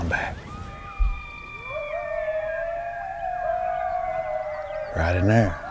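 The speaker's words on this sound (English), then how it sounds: "Oh, we got coyotes out in back." Coyotes howl outdoors at sunrise on a dead-calm morning, a chorus of long wavering, sliding tones from some distance, rising into a brief yipping burst at the end.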